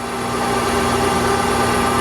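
A Supertec 15 by 24 inch universal cylindrical grinder spins at about 1500 RPM, giving a loud, steady machine hum with a sustained tonal whine and even broadband noise.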